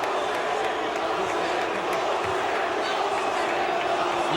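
A large crowd at a wrestling match roars in a continuous, loud, dense wall of booing and shouting that never lets up.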